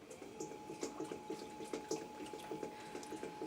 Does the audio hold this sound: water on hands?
yes